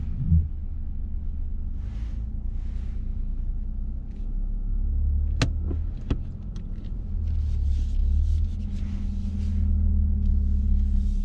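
A learner's car on a mock driving test on rural roads starts up and pulls away, a steady low engine and road rumble running throughout with a couple of brief clicks midway, no talking.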